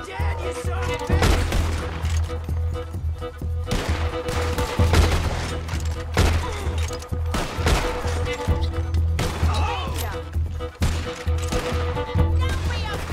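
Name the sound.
Gatling gun firing in Red Dead Redemption 2 video game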